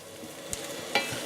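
Mushrooms cook in a pan for a creamy mushroom and chicken noodle dish, with a soft continuous sizzle broken by two sharp stirring clatters.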